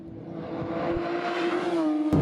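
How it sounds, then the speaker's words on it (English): A Porsche 911 GT3 with a 6-cylinder 4-liter boxer engine accelerating on a hilly racetrack, a rising engine note that climbs steadily in pitch and loudness over a couple of seconds, with no talking. "the 6-cylinder 4-liter Boxer engine, which produces 510 horsepower"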